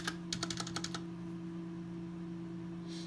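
Quick run of about eight key presses on a Razer BlackWidow Chroma V2 Tournament Edition mechanical keyboard, crisp and close in a quiet room, followed by near silence with a steady low hum.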